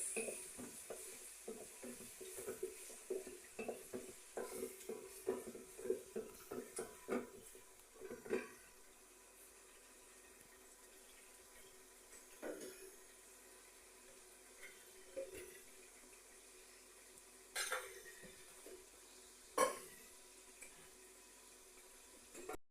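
Water pours into frying masala for chicken dum biryani, first splashing and bubbling in a quick burst, then settling into a quieter simmering sizzle with occasional clinks of a pan and utensil.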